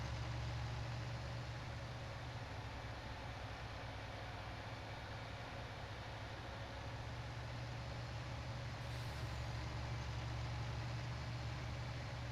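Tractor engine droning steadily in Farming Simulator 19 on a spring farm, a continuous low idling rumble with constant loudness throughout and no voices.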